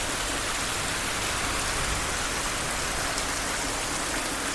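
Steady rain falling outdoors on a cold day, a dense continuous hiss of drops on surfaces, even and unbroken throughout with no voices.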